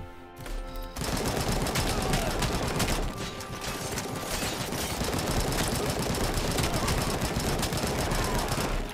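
AK rifle fire in RoboCop: Rogue City, a long continuous automatic burst of loud close shots that begins abruptly after a brief quiet moment and carries on to the end.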